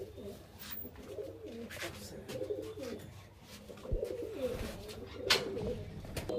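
Kashma Madras pigeons cooing in a cage, soft low repeated coos under a murmur of nearby people talking, with a few rustles and sharp clicks scattered throughout.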